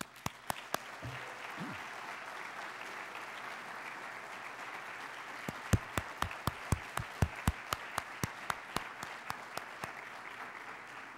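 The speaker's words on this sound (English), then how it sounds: "Would all city employees please stand and receive a well-deserved round of applause." Rhythmic applause at a city State of the City address honoring city employees, steady crowd clapping with a few sharp nearby claps early on, then a strong run of loud, evenly spaced claps.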